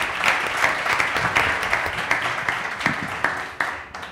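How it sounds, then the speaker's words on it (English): Applause from a crowd at a talk about St. Petersburg, a close, busy wash of clapping with sharp accents that thins out toward the end. "can we get a round of applause?"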